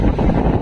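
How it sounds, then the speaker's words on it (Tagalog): Wind buffeting the microphone on Dinahican beach in Infanta, a brief, loud, low rumbling gust. "Aba, mahangin. Kanina mainit,"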